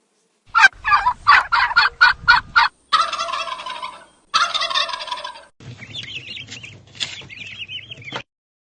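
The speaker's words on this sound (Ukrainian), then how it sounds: "індичка, тато індик і маленьке індиченя." A turkey gobbles in a quick rattling series, followed by other fowl calls and chirps, close and clear with no talking.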